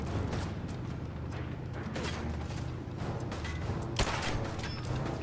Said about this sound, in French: c'est ce qui s'appelle finir sur une explosion